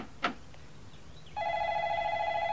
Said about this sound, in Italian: Apra la porta, io rispondo al telefono.